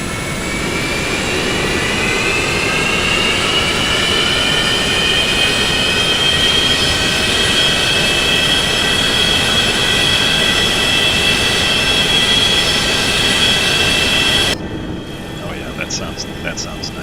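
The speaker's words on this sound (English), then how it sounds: "Listen to those nice engines start up" Boeing 737-200 jet engines in X-Plane 11 produce a loud, steady whine with layered rising tones that holds for about fourteen seconds, then abruptly drops to a quieter cabin hum with faint clicks.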